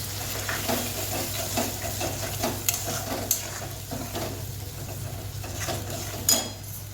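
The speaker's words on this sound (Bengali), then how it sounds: "এরপর জিরে ধনে বাটা দিয়ে দিলাম। এটাকে এবার কষাবো 5 মিনিট।" A cumin-coriander paste masala sizzles steadily in a pan while being stirred, with a constant fry hiss, occasional clinks of a utensil against the pan and a low hum in the background.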